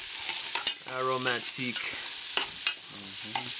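Onions frying in melted butter in a pan, a steady hiss running throughout with a few stirring knocks, while someone talks over it; the setting is a chef cooking for Mongolian nomads.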